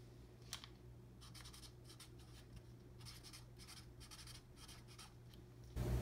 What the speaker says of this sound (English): And now I'm going to sign my name down here at the bottom.